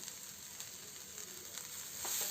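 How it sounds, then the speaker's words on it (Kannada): Cooked pigeon peas go into a hot pan, giving a faint, steady sizzle and crackle of frying that grows slightly louder near the end. "ನಂತರ ನೋಡಿ ಈ ಥರ ಬೇಯಿಸಿದ ಕಾಳನ್ನ ಹಾಕ್ಕೊತಾ ಇದ್ದೇನೆ"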